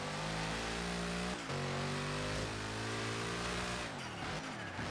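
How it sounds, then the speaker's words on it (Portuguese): Mercedes racing in the video game Forza Horizon 3, its engine revving hard through gear changes, with turbo blow-off hiss as the throttle lifts around the shifts. Loud and continuous, no talking. "Olha o barulho do turbo, vocês viram o barulho do turbo aliviando?"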